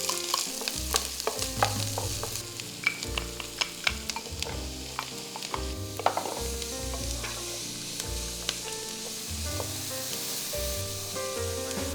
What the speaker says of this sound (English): Now I'm going to cook off my rice in a little bit of butter